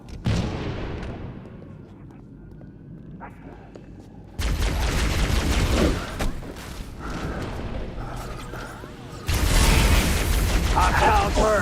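A frag grenade explodes in a video-game firefight, with two heavy booming blasts landing several seconds apart amid a rumbling, clattering battle din.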